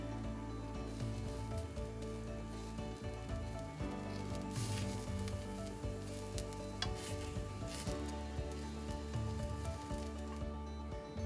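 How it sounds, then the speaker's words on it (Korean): Zucchini sizzling gently in an oil-free pan over medium heat, a soft continuous crackle with occasional stirring scrapes, fairly quiet and close with no voices. "호박은 기름을 두르지 않은 팬에서 중불로 두고 갈색이 돌 때까지 충분히 구워서 수분을 날린다."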